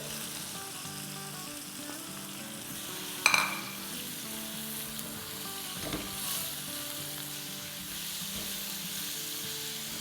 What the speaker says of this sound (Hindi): तब इसमें हम अपनी छिलका निकले हुए बारीक बारीक काटी हुई कैरी डाल देंगे